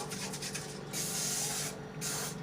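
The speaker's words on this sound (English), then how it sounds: "I'm getting ready to spray the chicken." Cooking oil spray hisses onto chicken in long, continuous bursts, close and loud, each lasting about a second, with brief gaps between them.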